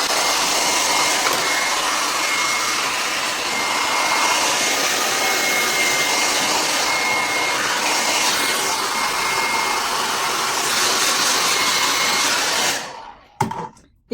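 A hair dryer blows steadily and loudly at close range while cleaning a sewing machine, a constant airy whoosh that cuts off abruptly near the end.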